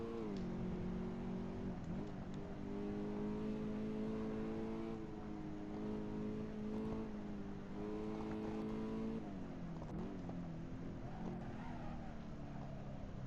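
A fast car's engine in the Assetto Corsa racing game, driving the Akina downhill course, holds a steady loud drone with shifting pitch, rising and falling through gear changes and throttle lifts near 2 and 10 seconds.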